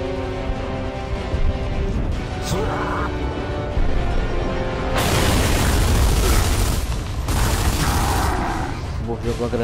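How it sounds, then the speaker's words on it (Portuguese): A grenade blast in a video game bursts into a loud, sustained roar of rumbling debris mid-clip, with a second surge after, over ongoing game sounds and voices. "Jogou a granada nele mesmo"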